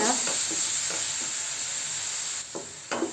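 Onions cooking in a pan over a slow flame give a steady hissing sizzle throughout, with a few soft stirring scrapes and taps near the end, and no one speaking.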